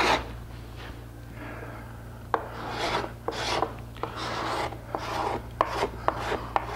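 A sharp gooseneck scraper shapes a scooped wooden chair seat in repeated rasping strokes, each pass a short scratchy burst with small knocks between, close and alone.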